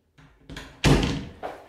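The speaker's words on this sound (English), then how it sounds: "Now we're going to close the door" A household door is pushed shut after its latch has been packed out with paper. A short shuffle is followed by a loud, close thud as it closes and latches, then a lighter click-thump after it.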